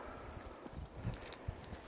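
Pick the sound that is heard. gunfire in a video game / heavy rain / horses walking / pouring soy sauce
horses walking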